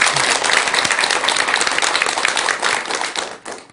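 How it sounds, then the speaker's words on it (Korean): Audience applause at a Buddhist monk's dharma lecture, a dense, steady wash of clapping that holds loud for nearly four seconds before thinning slightly at the end. "박수 한번 드리세요."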